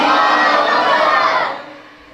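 A crowd at a religious gathering shouts back a slogan in unison, a loud, dense collective roar that holds for about a second and a half, then fades.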